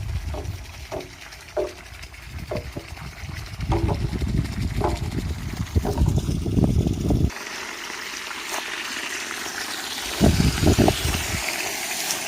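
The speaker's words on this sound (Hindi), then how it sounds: "अब मैं इस माल्टे की बूटी को पानी दे रहा हूँ।" Water pours and gushes onto the soil around a malta orange tree being irrigated outdoors, steady and close, with intermittent thumps and a low background hum.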